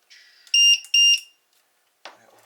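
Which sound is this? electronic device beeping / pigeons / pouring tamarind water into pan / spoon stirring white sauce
electronic device beeping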